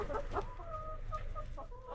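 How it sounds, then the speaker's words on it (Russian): Farmyard chickens cluck and squawk close by in quick, uneven bursts, a busy flock calling continuously with no voices. "Куры преследуют"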